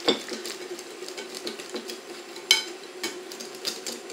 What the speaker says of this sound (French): on va juste mélanger pour obtenir quelque chose de parfaitement homogène